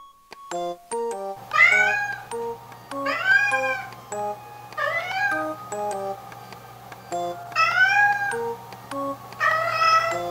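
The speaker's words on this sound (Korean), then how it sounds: "건강아, 왜 그렇게 우는 거니?" A three-legged cat cries with about five long, plaintive meows in a row, close and loud, each rising and falling, over a low steady hum.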